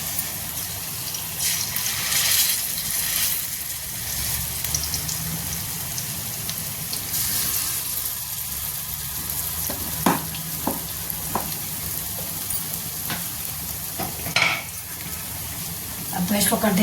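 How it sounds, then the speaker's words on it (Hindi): Singhara flour pakoras sizzle steadily in hot oil in a pan, a close continuous crackle with occasional clinks of a utensil against the pan. "अब गैस को कर देते हैं तेज, इससे पकौड़ियाँ जल्दी से पक जाए।"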